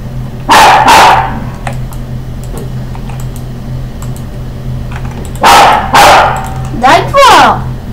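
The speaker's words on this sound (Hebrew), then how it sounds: "כלב מציק." A pet dog barks loudly and close by in a few short bursts, two sharp barks near the start and another pair later with a higher yelping cry, while a low steady hum and a person's voice run underneath.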